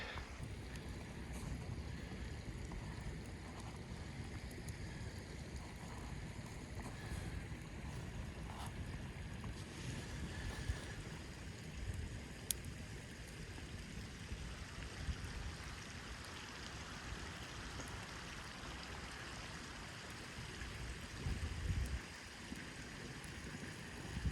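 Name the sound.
creek flowing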